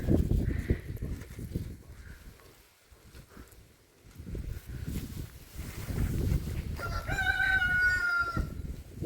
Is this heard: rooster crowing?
yes